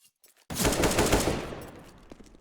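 An AK rifle fires in the video game Counter-Strike on the map Cache: after a short quiet lead-in, a rapid burst of automatic gunfire erupts loudly, then tails off into echoing reverberation.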